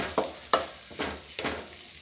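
Puffed rice tossed with ground spice powder in a pan, giving four dry rustling scrapes at a steady rhythm with faint sizzle beneath, close and moderately loud, no voices.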